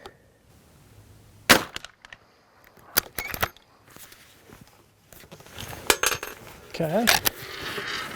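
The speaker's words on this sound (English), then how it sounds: "so that was a pretty anemic working of the lever" A Marlin 1894 lever-action rifle in .44 Magnum, being fed .44 Special rounds, has its lever worked, extracting without ejecting: a handful of sharp, separate metallic clacks and clicks close by, with quiet gaps and a brief word spoken.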